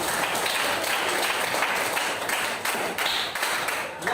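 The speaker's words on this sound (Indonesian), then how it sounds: "Tepuk tangan dulu buat teman." Classmates in an Indonesian school classroom clapping for a fellow student, a dense burst of hand claps filling the room at close range.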